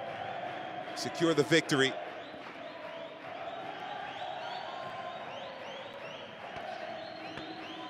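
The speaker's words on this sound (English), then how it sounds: "You hear the crowd rising to give Romero that extra bit of energy to finish this fight." A boxing arena crowd at a ten-round fight in Argentina keeps up a steady roar with a brief burst of louder cheering and shouts early on, while a commentator talks over it.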